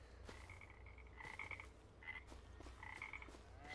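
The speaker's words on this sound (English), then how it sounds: "the croaking of the frogs up here" Frogs croak outdoors at moderate distance in repeated short bursts of rasping, chirping calls, several overlapping, over a quiet low background hum with no talking.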